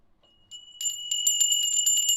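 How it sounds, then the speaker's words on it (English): Bright, tinkly bells ring in a quick, steady flurry, starting softly and then jingling continuously and clearly near the listener. "Tinkly bells."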